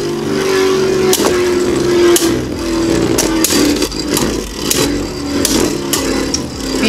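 Beyblade Burst spinning tops, Beat Kukulcan against Ark Bahamut, whir and grind against each other in a battle stadium, with a steady high spinning drone broken by sharp metallic clashes and scrapes throughout.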